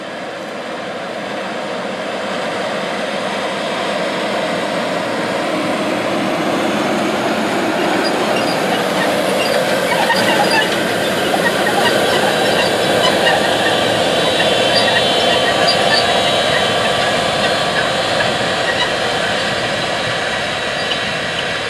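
A tractor pulling a Degelman Pro-Till disc at 10 mph across a field, a steady loud engine drone with rumbling and rattling from the working implement, rising slightly and holding constant for a long stretch without speech.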